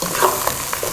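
Green beans sizzle in a pan with onion, garlic and oil, with a brief burst of close frying and the scrape of stirring.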